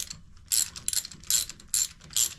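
A ratchet clicks in short bursts while tightening a spark plug on a 2022 Harley Davidson Street Bob 114, a close, crisp series of about five rhythmic ratcheting strokes with no talking.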